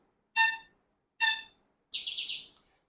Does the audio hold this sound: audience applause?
no